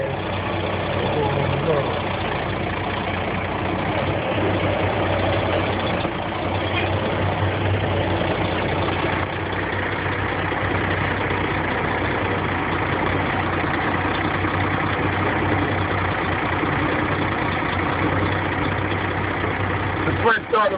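A truck engine idles steadily at a low rumble through the whole stretch during CDL driving practice, near and continuous, with faint voices at times.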